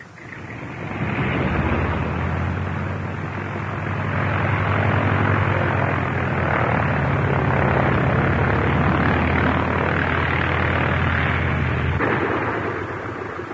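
Propeller airplane engine sound effect from an old radio serial, a loud, sustained droning rumble with a low engine hum that swells and holds steady for over ten seconds before easing off, with no voices.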